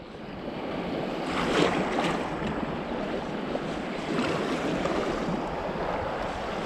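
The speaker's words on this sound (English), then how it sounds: "And you have a good wave, not too much wave." Water washes and splashes steadily against a boat at Als, Denmark, in late October, with wind rumbling across the microphone throughout.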